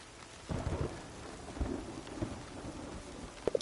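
Rain pours steadily in the video game Returnal on PS5 while several deep thunder rumbles roll in one after another, with a sharp crack near the end.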